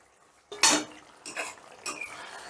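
A lid lifted off a pot of simmering potato curry: quiet at first, then a sharp metallic clank followed by two softer clattering rattles nearby.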